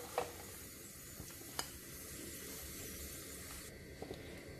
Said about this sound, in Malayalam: അപ്പോൾ ഇത് നമുക്കിത് വറുത്ത് കോരാം